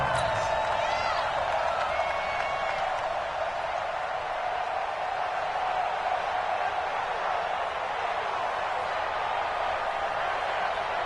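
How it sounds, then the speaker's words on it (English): A stadium crowd cheers in the Madden 20 football video game, producing a constant broad roar that carries evenly for around eleven seconds with a few brief tonal sounds at the start. "And this crowd loves it as their guys hold on the opening drive."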